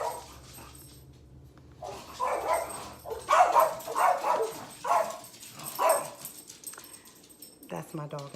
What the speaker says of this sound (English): That's my dog and the neighbor's dog.